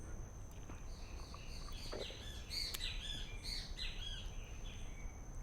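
Great kiskadee, the bem-te-vi, calling outdoors in a garden: a series of bright, clear whistled phrases repeating over several seconds, moderately near, over a steady low background hum.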